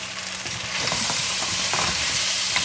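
Paya curry (goat leg curry) stirred in a hot pan, with a steady frying sizzle and scraping stir strokes that grow louder partway through, close and continuous with no voices.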